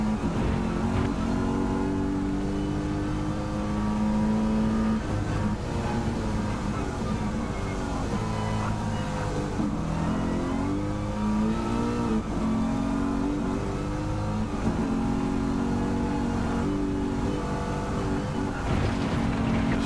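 A V8 race car engine in Gran Turismo 7 drones steadily, climbing through short, quick shifts without reaching high revs, loud and continuous, with a commentator talking over it.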